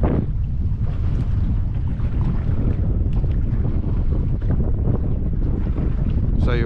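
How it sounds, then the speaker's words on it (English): Strong wind buffets a small fishing boat out on the water during a low-tide soft plastics fishing session, a loud, constant rumbling roar with gusty microphone noise and faint water movement beneath. "That wind's pushing us back in that way fairly quickly."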